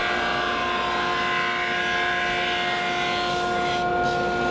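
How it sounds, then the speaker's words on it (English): A thickness planer and drum sander mill resawn fretboard blank wood, giving a steady, loud machine drone with a constant motor whine throughout, no voices. "Now I'll take those resawn pieces and remove most of the material on the planer, and then I'll pass it through the drum sander"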